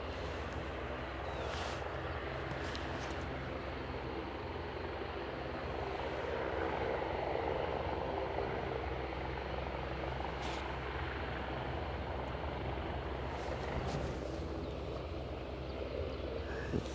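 A Widerøe Dash 8 turboprop drones steadily at Aberdeen airport, a continuous propeller and engine roar heard from some distance outdoors with no talk.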